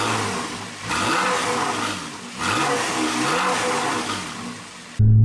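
A 2011 Porsche Cayman S flat-six engine revs in two rising pulls, a slightly raspy, steady drone heard up close before cutting off abruptly at the end.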